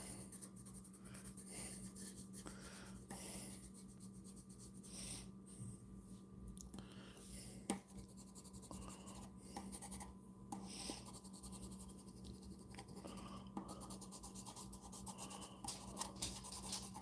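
Pencil scribbling on paper while roughing in a drawing's background, a faint continuous rasp of quick strokes with a few small taps, heard close in an otherwise quiet room with a low hum.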